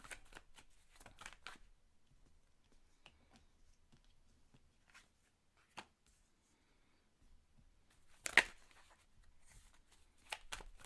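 Tarot cards are shuffled and drawn close up in a quiet room: soft riffles and flicks, scattered slaps, and a sharper snap near the end, with long near-silent gaps between them.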